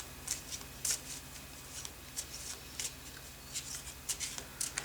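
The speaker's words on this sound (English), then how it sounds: "I'll just close my eyes now and shuffle these cards." A deck of oracle cards is shuffled by hand in a quiet room, a run of soft papery riffles and slides in irregular bursts, close and fairly faint.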